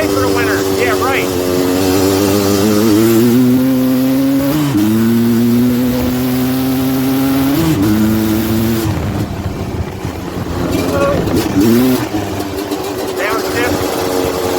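A Suzuki LT250R ATV rides along in the fall, its engine note climbing through revs, then dropping as it downshifts, loud and close throughout, with a rider talking over it at times.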